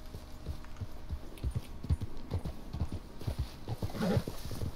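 Horse hooves clip-clop in a steady trotting rhythm in the Red Dead Redemption 2 video game, close and moderately loud, with a brief snort or whinny near the end.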